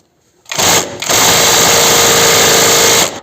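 An impact wrench with an extension fitted, loosening a suspension arm bolt on a Seat León, giving a loud, close, high-pitched whirring run that briefly dips, then holds steady for about two and a half seconds before cutting off.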